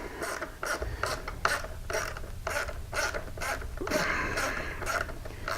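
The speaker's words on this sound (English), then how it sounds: "Same thing, even with a ratchet, we can snug it up." A ratchet tightens a windshield fastener on a motorcycle fairing, giving a steady run of quick, evenly spaced mechanical clicks up close, with a slight pause partway through and no talk.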